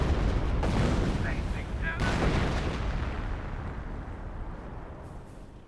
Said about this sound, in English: Ooh, rocket barrage.